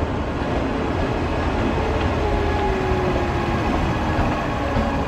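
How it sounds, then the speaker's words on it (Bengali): The Amritsar Mail passenger train rolls into Pandit Deen Dayal Upadhyay station, a steady, even rumble of wheels and carriages with no voices. "তো এখন আমাদের ট্রেন পণ্ডিত দীনদয়াল উপাধ্যায় উঠছে।"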